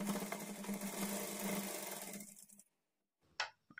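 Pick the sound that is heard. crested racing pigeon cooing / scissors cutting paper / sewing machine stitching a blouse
sewing machine stitching a blouse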